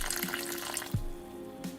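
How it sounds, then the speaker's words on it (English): A plant in a homemade propagation box gets watered, and the water splashes and trickles through into a tray underneath. The sound is short and close, with a brief thump partway through. "I'm just going to show you what I do for watering"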